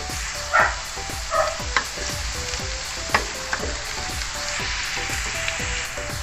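Pork lechon sisig sizzles loudly in a pan while a utensil stirs it, giving rhythmic scrapes and knocks roughly every half second, with a few sharp clacks standing out.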